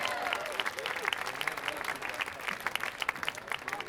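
Steady, lively audience applause for a big band musician at a live performance, close and full, continuing throughout with no speech.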